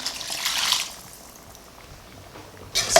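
Seasoning liquid rinsed from a bowl is poured into a pot of curry chicken, giving a soft splashing trickle that swells, fades to a quiet simmer, then returns as a brief second splash.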